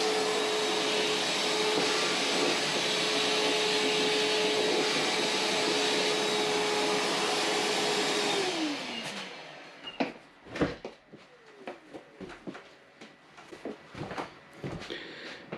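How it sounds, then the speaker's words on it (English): Milwaukee M12 Fuel brushless wet/dry shop vac running on its high setting at an off-grid cabin, a loud steady close whine for about eight seconds before winding down, followed by clattering handling knocks and bumps. "This new Milwaukee M12 shop vac, this thing's awesome."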